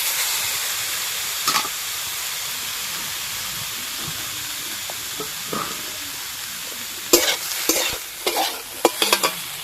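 Grated coconut frying in a wok for taler pitha filling, with a low steady sizzle and sharp scraping stirring strokes that cluster and grow louder toward the end. No one speaks.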